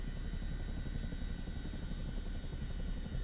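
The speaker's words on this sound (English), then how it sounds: "I got actual control of my helicopter now." Helicopter in Microsoft Flight Simulator 2024, a steady dense rotor and turbine drone that holds at an even level throughout, close and continuous with no talk over it.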